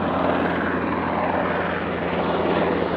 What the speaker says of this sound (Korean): 헬기 소리 들리지